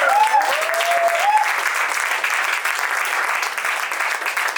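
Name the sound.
audience applause after a play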